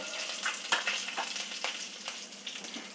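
Curry leaves and asafoetida crackle and spit in hot oil, a close, quiet frying hiss broken by frequent sharp pops and sputters throughout, with nobody talking.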